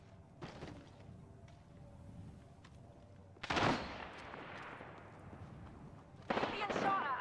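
Gunfire in the shooter Apex Legends plays on a PS4 Pro, a few distinct bursts of shots with trailing echo spread over quiet game ambience.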